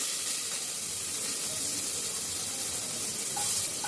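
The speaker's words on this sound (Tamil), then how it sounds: "நெய் வந்து சேர்த்துக்கிறேன். கடுகு போடுறேன். கடுகு பொரிஞ்சிச்சு." Mustard seeds crackle and splutter in hot ghee, a steady dense sizzle and hiss running close and continuous with faint pops.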